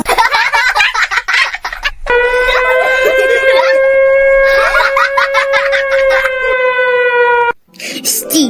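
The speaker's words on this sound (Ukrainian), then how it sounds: "Ти що не знаєш правила під час повітряної тривоги?" An air raid siren wails loudly and close by, holding a long steady tone for about five seconds amid a bustling school first-day-of-autumn celebration, with voices and clatter heard before it starts and after it stops.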